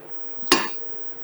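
A single bright metallic clank as a lid is set onto a cooking pot of simmering spelt spaghetti and kale, a short ringing clink that decays quickly against a quiet kitchen background.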